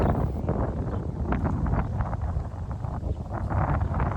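Cool sea wind blows by the shore in Bergen, a steady rushing buffet across the microphone with no voices.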